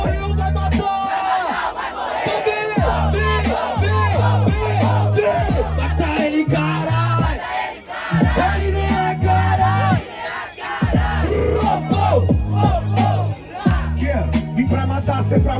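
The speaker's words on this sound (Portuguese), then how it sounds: "Mas é o grito da plateia que faz a terra tremer." A rap battle crowd in Brazil roars and chants together, loud and continuous, with a steady pounding beat underneath and the massed shouting swelling in rhythmic bursts.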